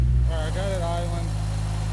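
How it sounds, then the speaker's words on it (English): A Prelude's engine idles with a steady low rumble throughout, its fuel pressure a little low, and a person speaks briefly over it near the start. "Alright, I got it idling"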